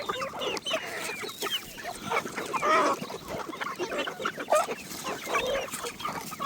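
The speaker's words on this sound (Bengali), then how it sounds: "খাবার জন্য পাগল হয়ে গেছে সব মুরগি।" A flock of hungry chickens clucks and squawks excitedly at evening feeding time, dense overlapping calls close by with no pause throughout.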